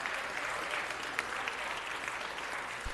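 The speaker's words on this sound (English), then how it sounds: "Yeah, give them a round of applause." An audience at a city council meeting gives steady applause, a dense patter of many hands clapping at moderate distance, continuous and fairly even throughout.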